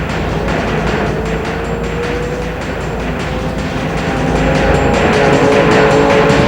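Drag racing cars, a yellow Beetle and a red Camaro, launching at a raceway with loud engine roar rising in pitch and growing louder toward the end, no voices over it.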